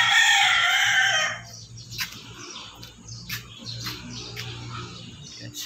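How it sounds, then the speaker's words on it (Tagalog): Chickens and a rooster at a cockfighting (sabong) area crow and cluck: a loud burst of crowing opens, then fainter clucks and short calls scattered over a low steady background. "Yes, may mga manok sa likod ko."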